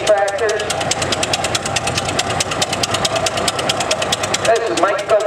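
Antique Hoover Super 4 tractor engine running at a steam and gas engine show, a steady rapid chugging beat that stays close and loud throughout, with a voice talking over it.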